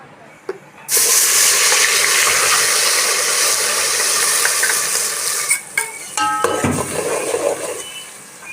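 A green chilli, ginger and garlic masala paste drops into about a hundred grams of hot oil and bursts into a loud, steady sizzle with frying crackle. Stirring and the clatter of utensils come in toward the end.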